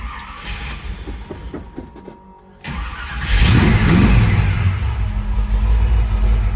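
A 1969 Chevrolet Camaro Yenko Tribute with a rebuilt engine cranks and fires after a short pause, then settles into a loud, throaty idle with rising revs, heard up close.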